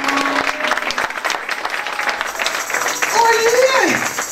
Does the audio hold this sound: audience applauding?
yes